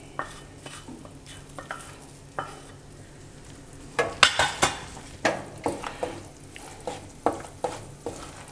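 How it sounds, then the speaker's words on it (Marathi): Wheat flour roasting in ghee in a pan for halwa, stirred steadily with a spoon: soft sizzling under a series of sharp scraping and clinking strokes against the pan, close and repeated. "पीठ सतत भाजत राहायचं"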